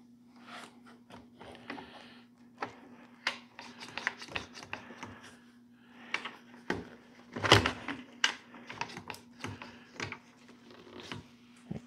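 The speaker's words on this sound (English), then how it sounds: "That rattling you hear is the fence, not the tool" Loose fence on a power tool rattles in irregular bursts of light clattering taps, with a steady low hum running underneath throughout; fairly quiet and close.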